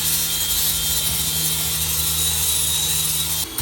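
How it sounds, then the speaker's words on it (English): A grinder works steadily on hardened JB Weld coating a metal skate obstacle, making a loud, continuous, close harsh whir with a steady hum beneath it that cuts off just at the end. "So I'm just gonna grind it for a bit."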